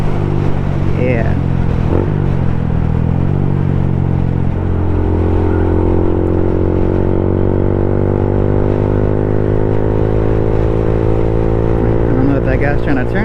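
A Honda Grom motorcycle revs loud and close, its engine note dipping on a downshift and then climbing steadily as it accelerates, with a rider's voice over the engine.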